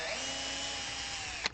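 Power drill whirring at a steady high pitch for over a second, close and loud, ending with a short sharp click as it stops.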